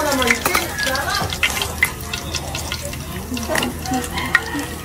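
Tilapia frying in a pan gives a steady close sizzle with stirring and clattering, and a voice talks faintly underneath.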